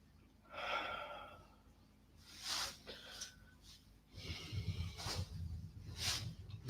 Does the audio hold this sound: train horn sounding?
no